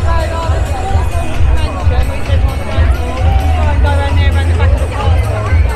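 Dense crowd babble fills a busy Magic Kingdom walkway at Disney, many voices overlapping loudly and continuously as people push through, with nearby talk mixed in.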